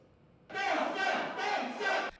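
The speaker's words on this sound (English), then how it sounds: "Penghu locals give an impassioned cheer for Democratic Progressive Party candidate Chen Guangfu" Penghu locals raise an impassioned cheer for Democratic Progressive Party candidate Chen Guangfu, a crowd shout that bursts in loudly and holds for about a second and a half in two swells before cutting off abruptly.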